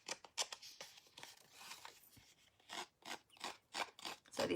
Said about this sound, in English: the scissors tend to grip a little bit on the embossed design of it too